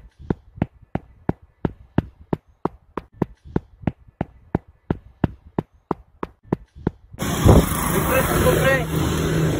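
A Philippine jeepney approaches: a long run of sharp, evenly spaced ticks gives way to a loud, close engine roar with rumbling road noise for the last few seconds.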